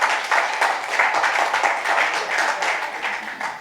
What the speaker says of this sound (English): I want to clap him for me.